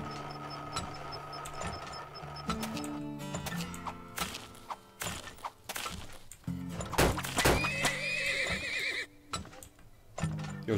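Horses in the video game Turmoil neigh and whinny repeatedly amid clip-clopping hooves, thunks and other game sounds, fairly loud and busy with no speech.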